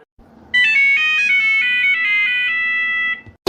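A mobile phone rings loudly and close with a bright electronic ringtone melody of repeated tonal notes lasting about three seconds, then stops.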